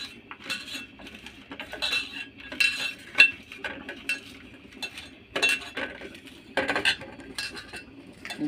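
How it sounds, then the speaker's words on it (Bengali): A utensil stirring and sautéing onion with salt in a pan while making a sandwich filling, irregular scraping clinks and metallic taps coming in short bursts against a quiet background. "আমি লবণ দিয়ে একটু পেঁয়াজটা ভালো করে কষলাই নিই।"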